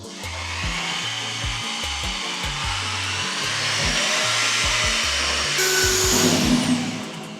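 A drill fitted with a mixing paddle churns Cove molding mortar with colored quartz, a steady whirring grind with a rhythmic low thumping from the paddle, loud and close throughout, with a brighter scrape near the end.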